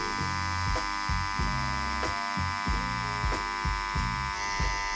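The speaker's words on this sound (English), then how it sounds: "I can tattoo the lines directly in pure black" Tattoo machine needle working black lines into stretched skin, a close, steady electric buzz pulsing in short repeated strokes with no talking.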